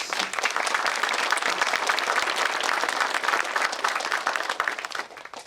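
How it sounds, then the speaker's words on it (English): An audience claps steadily at an outdoor groundbreaking ceremony for an off-road trail project, a dense, loud round of applause that holds evenly for several seconds before tapering off at the end, with no voices over it. "Let's all give them a round of applause"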